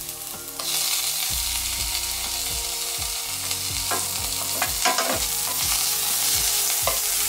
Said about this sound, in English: So we're gonna fry this off now.